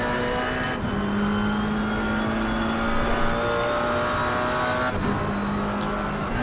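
A GT4 race car lapping Bathurst Mount Panorama in a racing video game, its engine droning loud and steady, with brief dips at gear changes as the pitch climbs again.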